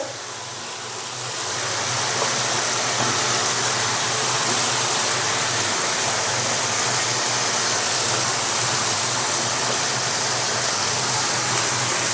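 Bitter gourd goes into minced meat frying in a pan, setting off a steady, loud hissing sizzle that swells after the first couple of seconds and holds evenly, with no voices.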